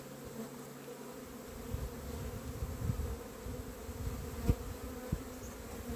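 Honey bees in a nuc hive during an April check buzz in a soft, continuous drone, with occasional louder individual bees passing close and faint handling knocks.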